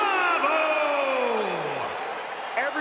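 A video-game wrestling crowd booing a superstar at a Hell in a Cell event, a loud sustained jeering roar with a falling drawn-out boo, heard behind a commentator's voice.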